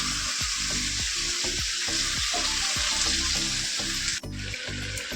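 Chicken sautéing in a pan over a low flame gives a loud, continuous sizzle, with regular low scraping strokes from stirring and a brief shift in the sound near the end.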